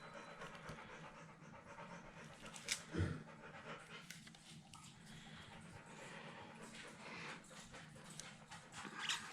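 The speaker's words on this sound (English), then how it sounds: "Can you hear that heavy breathing?" Quiet, rhythmic heavy panting close by, rapid breaths repeating steadily with a brief louder thump partway through.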